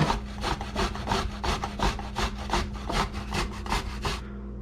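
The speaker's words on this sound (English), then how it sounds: "I can grate it on an actual grater" Ginger being grated on the microplane edge of a cheese grater, about a dozen quick rhythmic rasping strokes close up, evenly spaced and fairly crisp, with no talking.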